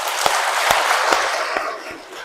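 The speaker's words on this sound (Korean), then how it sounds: "이분들에서 박수 한번 쳐주세요." A church hall audience of around forty people at a Catholic parish gathering in Seoul claps in a dense, sustained burst of applause that stays loud throughout and eases slightly near the end.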